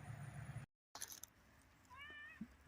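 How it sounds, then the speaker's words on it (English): A cat gives a short, rising meow near the end, after low background rumble and a brief dropout, with a faint thump beside it. "My Halloween cat says hi."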